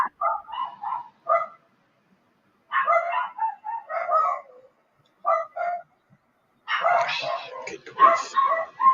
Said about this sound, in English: sorry about the dogs there.